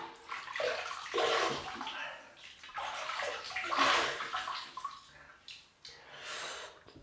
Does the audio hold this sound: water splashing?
yes